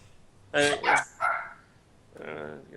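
A pet dog barks close by in a podcast studio: a few sharp, loud barks in quick succession, then a lower, drawn-out whine or yelp, with voices around it.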